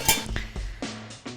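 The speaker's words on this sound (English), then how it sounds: "we need some boiling water, and we're going to blanch these for about 1 minute, no more. Pop the lid on." A metal lid set onto a pot of boiling water for blanching gooseneck barnacles, a few quick close clinks and rattles in a kitchen, fairly quiet and without talk.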